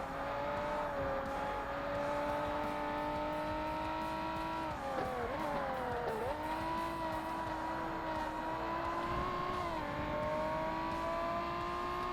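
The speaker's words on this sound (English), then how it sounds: "Now the Ferrari's overtaking the Zonda again." Ferrari and Pagani Zonda race cars in Forza Motorsport roar steadily with high-revving engines, pitch dipping and climbing through gear shifts as one overtakes the other, loud and continuous with no talk.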